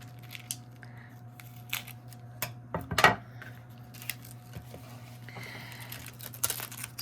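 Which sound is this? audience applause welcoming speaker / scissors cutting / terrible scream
scissors cutting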